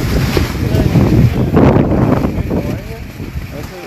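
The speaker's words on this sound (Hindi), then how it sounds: "ये अभी तेज हवाएं चल रही बाहर" Strong wind roars outdoors at a protest camp at the Ghazipur border, buffeting the microphone in loud, gusting surges, with someone talking through it.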